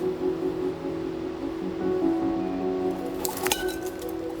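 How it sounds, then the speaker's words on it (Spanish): A breakfast cup clinks against rocks in a makeshift forest perimeter alarm, a sharp bright chink near the end over steady outdoor background noise. "Lo que se me ha ocurrido poner es mi vaso del desayuno, porque hace mucho ruido."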